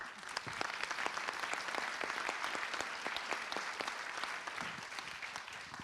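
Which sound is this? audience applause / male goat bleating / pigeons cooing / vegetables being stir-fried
audience applause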